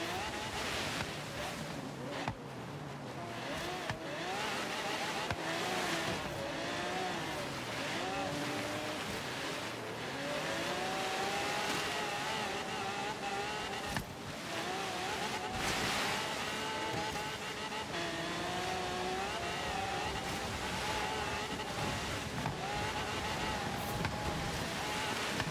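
A car drives over snow and ice in the racing game Forza Horizon 3, its engine whining and shifting pitch steadily under continuous wind-like rushing noise, loud throughout.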